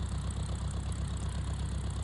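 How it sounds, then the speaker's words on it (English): Engine of a simulated Eaglesoft Cirrus SR22 G3 Turbo after power is cut on approach in a flight simulator game, a steady, low, continuous drone with no pauses. "cut the engine"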